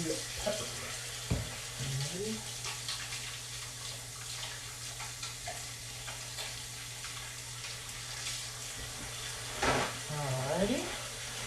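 Tap water runs steadily in a kitchen while hands, peppers and other produce are rinsed before making black bean and pepper quesadillas; a soft continuous wash with a few splashes and clinks, no talking.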